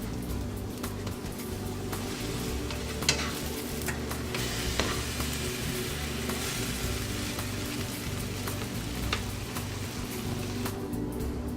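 Cinnamon toast bread crisping in a pan, a steady low sizzle and rumble with occasional faint ticks and clicks throughout; no one talks.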